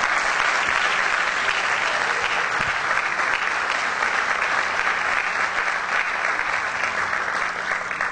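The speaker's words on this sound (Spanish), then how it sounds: "quiero pedir un fuerte aplauso" Steady, loud applause from a concert audience fills the whole stretch, a dense continuous clapping texture with faint crowd murmur and no talking.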